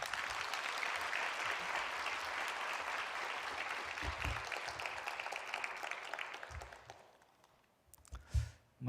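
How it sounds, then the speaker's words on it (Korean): Church congregation at a Wednesday evening worship service applauding to welcome a preacher: steady, dense clapping from a large group fills most of the clip, then thins and fades out near the end. "우리 따뜻한 환영의 박수로 모시겠습니다."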